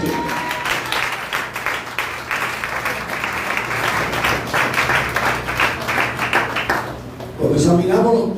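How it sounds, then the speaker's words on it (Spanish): A church congregation claps together in a long, steady round of applause that fades out near the end, when a voice begins speaking over a quieter room. "Den un aplauso."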